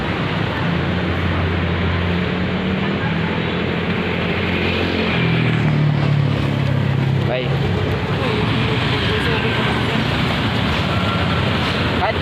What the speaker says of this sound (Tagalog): Ito yung motor.